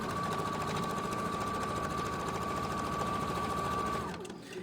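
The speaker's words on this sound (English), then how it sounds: "So I'm taking this over to the machine, and we're going to sew it, hopefully." A sewing machine stitches a quarter-inch seam on an infinity scarf, running at a steady, loud, rapid mechanical rhythm for about four seconds before stopping abruptly.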